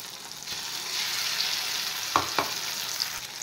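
Mustard paste and green chili frying with broad beans, eggplant and onion in a pan: a constant soft hiss of sizzling oil with two quick clinks of a spatula toward the end.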